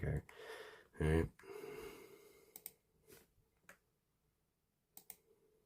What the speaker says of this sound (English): I know you guys hear all my clicking